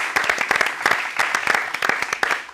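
Studio audience applauding the Al Ángulo football show team on a TV set, a dense, steady burst of many hands clapping close to the microphones with no talk over it.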